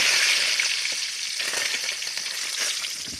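Curry leaves fry in hot oil with mustard seeds, cumin and garlic, giving a loud, dense, continuous sizzle and crackle heard close up, with no talking.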